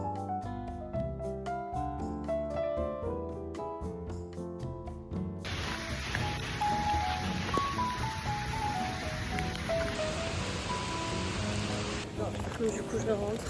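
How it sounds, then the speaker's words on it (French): Rain beginning to fall outdoors in Montreal under heavy clouds: a steady, even hiss that sets in after a few seconds of tonal sound and continues to the end. "il commence à pleuvoir"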